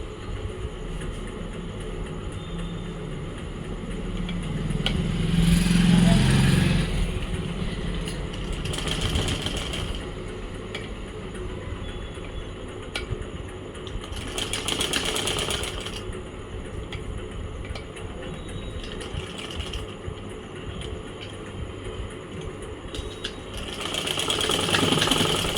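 Domestic sewing machine stitching a small baby frock, running in steady mechanical bursts of a few seconds each with pauses between, fairly close and moderately loud, with no talking.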